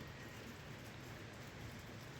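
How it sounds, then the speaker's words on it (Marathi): Rain falls outdoors near a rural home with trees, producing a faint, even hiss with no other distinct sounds over the short stretch. "पाऊस जसा वाढत चालला आहे"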